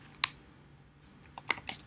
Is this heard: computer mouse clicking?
yes